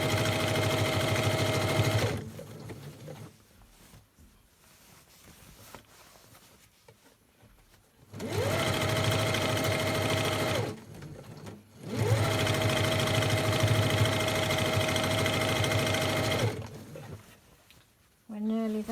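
A sewing machine runs in three long, steady bursts while stitching a lunch bag past its handles, with quieter pauses of fabric handling between runs and a brief voice at the end.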